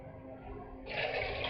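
Water pours for soup, six cups going into a pot, beginning as a soft running hiss and then swelling into a louder, steadier splashing rush partway through, close by in a quiet kitchen.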